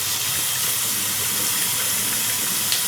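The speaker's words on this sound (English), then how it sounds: "let's rinse this off" Water runs steadily from a tap as an Edwin Jagger 3one6 razor is rinsed, making a continuous even hiss that stays close and constant throughout with no other sounds.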